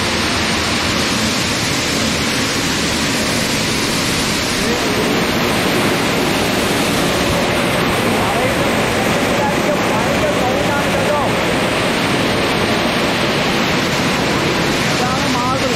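A granite cutting machine in a Rajasthan granite factory slices a large stone block with running water, producing a constant loud, dense roar that holds unbroken throughout.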